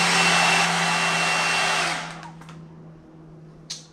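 A hair dryer blows loudly and steadily on freshly washed hair, then cuts off about halfway, leaving a quiet room with a faint hum and a brief click near the end.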